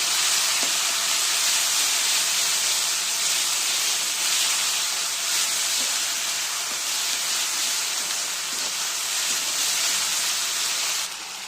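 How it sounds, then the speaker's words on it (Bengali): Onion and white garlic masala fries in a pan, a steady close sizzle and hiss that runs unbroken for the whole stretch with no talking. "মশলাটাকে কষে নিলাম"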